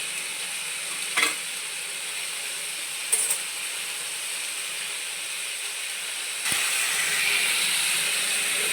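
Vegetables sautéing in a pan, a steady hissing sizzle with a few brief stirs, growing louder and denser after fresh ingredients go in.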